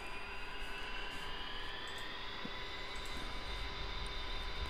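A fighter jet taking off in DCS World on the Persian Gulf map, a steady loud engine roar with a rising whine sustained throughout, no voices.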